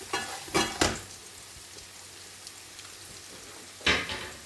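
Silver pomfret cooks in sauce in a hot pan, giving a low steady simmering hiss broken by a few louder bursts of sizzling or spattering near the start and again toward the end.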